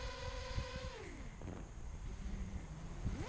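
A miniquad FPV drone at full throttle gives a loud buzzing whine whose pitch drops sharply, then breaks into rough, gusty rushing noise through the rest.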